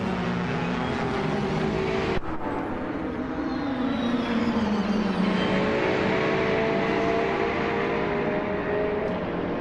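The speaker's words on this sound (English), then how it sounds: "Max Spirelli is driving a 2018 Ferrari 488 GTE" A 2018 Ferrari 488 GTE race car driving, with a steady, loud engine drone whose pitch rises and falls through gear changes, and two brief sharp clicks along the way.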